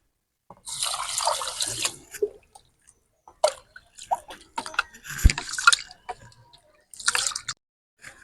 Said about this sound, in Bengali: এবারে চালটাকে ভালো করে ধুয়ে পরিষ্কার করে নেব।